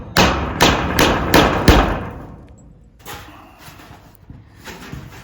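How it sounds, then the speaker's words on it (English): A hammer strikes deck screws to start them before they are driven in, giving four loud, evenly spaced close thuds, followed by quieter scattered knocks and handling noise. "So I'm just starting them with a hammer and going back and screwing them."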